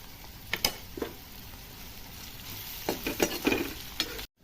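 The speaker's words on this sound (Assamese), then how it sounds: "আৰু পিঁয়াজটো দিওঁ। আদা নহৰুটো দি দিম।" Chopped onion, ginger and garlic sizzle in hot oil in a pan as a chicken liver dish is cooked, a steady close frying hiss broken by stirring scrapes and clinks.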